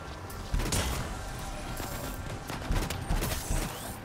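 Shotgun fire in the video game Anthem, a busy stretch of gunfire with several heavy blasts landing around half a second, then close together near the end over a constant layer of game noise.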